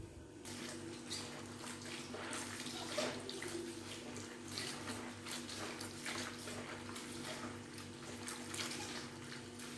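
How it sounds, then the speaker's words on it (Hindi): Water splashes and runs continuously as bitter gourds are rubbed and rinsed in a basin, with occasional louder sloshes. "चलें इन करेलों को अब धोते हैं।"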